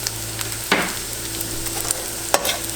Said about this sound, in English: now that my onion is about where I want it to be, I'm going to add in the garlic